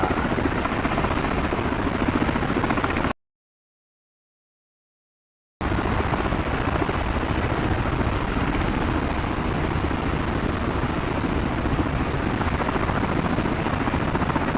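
A Hiller UH-12B helicopter in Microsoft Flight Simulator 2024 gives a loud, steady rotor and engine roar that cuts to silence for a couple of seconds, then resumes at the same level.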